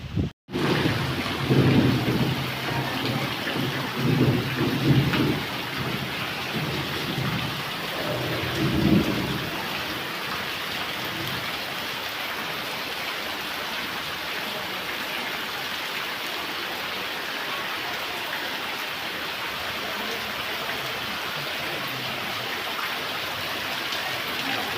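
A summer thunderstorm: a deep roll of thunder rumbles through the opening seconds, then steady heavy rain hisses on surfaces for the rest, with no voices.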